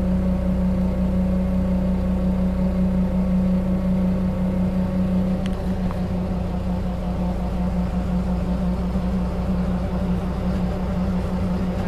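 Forklift engines run steadily while lifting the cab off an IH Dressta Dresser 175C track loader, a continuous loud droning hum with a slight shift midway and no clear talk.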